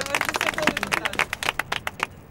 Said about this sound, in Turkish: Hadi alkış.